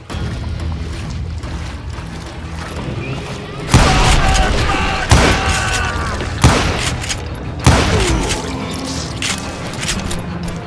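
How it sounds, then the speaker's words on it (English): Gunfire fusillade in the Call of Juarez: Gunslinger video game: several loud, sharp bursts of volleyed shots strike at irregular intervals over a steady background wash of outdoor ambience. "a fusillade of bullets come raining down from all sides"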